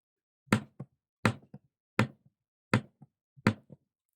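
Five evenly spaced hard knocks on a wooden surface imitate a woodpecker pecking, each sharp rap followed by a softer rebound tap, loud and close in otherwise silent surroundings.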